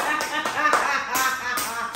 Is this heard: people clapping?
yes